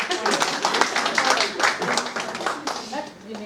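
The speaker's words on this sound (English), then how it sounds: "please clap for him" Clapping from the audience at a gender sensitization workshop for judicial officers in Sikkim, uneven bursts of hand claps mixed with talking voices close by.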